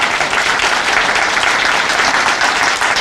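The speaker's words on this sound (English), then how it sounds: "Kathleen, can we give her a round of applause?" An audience at a library grand opening in Laurel claps steadily and densely for the full stretch, a constant wash of hands without talk on top.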